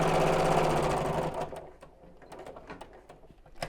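A sewing machine stitching a Biscornu zipped pouch runs in a loud, fast whirring burst that slows and stops, followed by a few soft clicks and handling taps.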